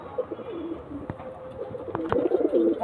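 Old-generation pigeons coo in soft, rolling warbles close by, growing louder and busier toward the end, with a couple of brief clicks or knocks in between.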